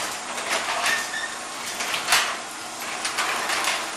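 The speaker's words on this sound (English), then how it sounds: "if I push this test button, the garage door should open" A Protectrix automatic garage door rolling open after its DP3 timer's test button is pressed, a steady broadband mechanical whir and rattle that runs continuously and fairly close, with a louder clunk midway.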